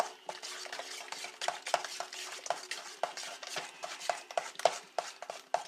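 A utensil works through homemade cheesecake filling in a bowl before whisking, making a quick, repetitive series of soft clinks and wet scraping strokes close by, fairly quiet and without talk.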